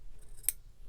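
Scissors snip once through yarn while trimming a pom-pom, a single crisp close cut against a quiet background.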